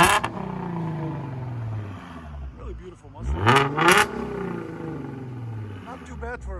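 A Ford Mustang with a 3.7L V6 and an aftermarket exhaust revs loudly nearby, its engine note swelling in a sharp climb and a second rev near the middle, with a steady idle rumble before and after.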